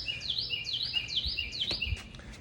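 Several birds chirp and tweet in repeated quick, high, descending calls that sound fairly close and clear against faint low background rumble on a morning beside the beach.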